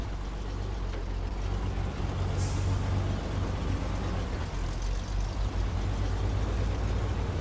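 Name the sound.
truck in a video game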